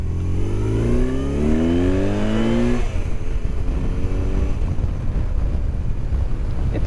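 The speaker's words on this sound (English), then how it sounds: "It's no sport bike, but we'll see how it does with the higher RPMs." A BMW R1100 RS motorcycle with an oil-head boxer engine accelerates, its rising harmonic drone climbing in pitch for a few seconds before shifting into a rougher, steady roar mixed with wind buffeting on the microphone.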